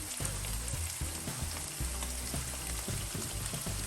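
Mackerel with salted seasoning sizzles and crackles in hot oil in a pan, a dense, continuous frying hiss with soft stirring knocks, close and steady.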